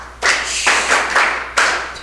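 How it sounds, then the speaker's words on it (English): An audience at a school quiz competition claps, a short burst of dense, close hand-clapping that swells in a few waves over two seconds. "A round of applause"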